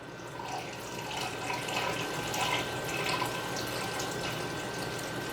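Broth being poured down the sides of a pot of oxtails, a steady, quiet liquid stream with a soft trickling wash that runs without a break and no voices.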